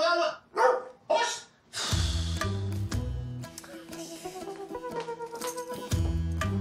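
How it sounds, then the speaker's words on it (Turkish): A dog barks three times in quick, loud bursts up close, followed by music and a voice beneath it. "Az önce bana köpek saldırıyordu, havladı."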